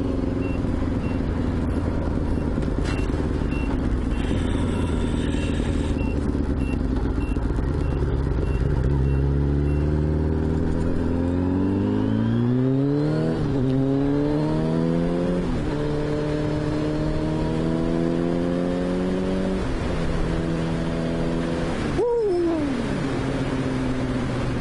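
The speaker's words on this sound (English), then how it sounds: "the sound of the bike is absolutely awesome in real life" A 1989 Kawasaki ZXR750 H1 motorcycle engine roars loud and close while riding, revving up through gears in repeated rising sweeps with the pitch dropping at each shift, over constant wind rumble.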